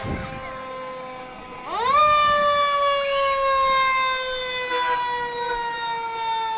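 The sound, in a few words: fire engine siren in a parade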